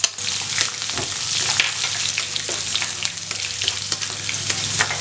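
Mustard seeds, urad dal, curry leaves and chopped garlic sizzle in hot oil as a base for okra masala, a loud, dense crackle close by that runs continuously, with stirring scrapes mixed in.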